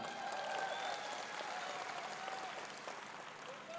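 An audience at an Indonesian Islamic sermon applauds continuously at a moderate distance, a dense steady patter of clapping that fades slightly toward the end.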